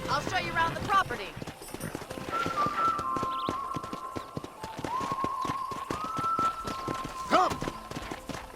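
Horse hooves beat a steady clip-clop in Red Dead Redemption on Xbox 360, running under a continuous whistling tone and background ambience, with a brief louder flourish near the end.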